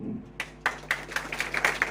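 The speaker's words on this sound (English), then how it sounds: "a big applause to you all" Applause at a Teacher's Day celebration in Varanasi: a short burst of steady rhythmic clapping from a small group, moderately loud, beginning after a brief quiet moment.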